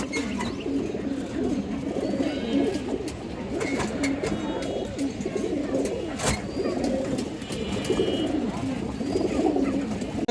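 Pigeons coo repeatedly at close range amid steady flock noise and rustling, with a few brief sharp knocks.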